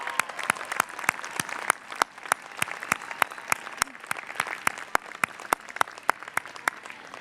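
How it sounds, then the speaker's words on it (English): University commencement graduates applauding, with sharp individual claps ringing out close by over a softer crowd wash, a few spread-out hand claps rather than a dense roar. "I want you to give them an enthusiastic round of applause, graduates. Applaud for your loved ones and friends."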